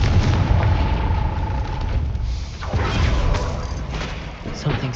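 A Confringo fire spell explodes in the video game Hogwarts Legacy, giving a loud, close burst and rumbling boom, then crackling debris and a lingering low roar, with a spoken voice in the mix.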